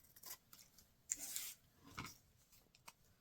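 Scissors snip through candy wrapper paper in a few short, crisp cuts with sliding, rustling strokes between them, close and quiet with no talking.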